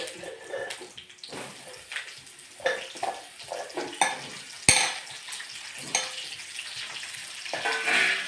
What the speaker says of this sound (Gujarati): એક લાખ તેલમાં તળવાનું છે